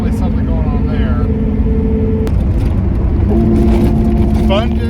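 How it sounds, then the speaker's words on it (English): A 1989 IROC with an LS engine swap runs with rattles and an exhaust tick, a loud steady engine drone with shifting tones as someone talks over it. "So there's quite a bit of rattles. I don't know if it's picking up on the camera or not. Got an exhaust tick or something."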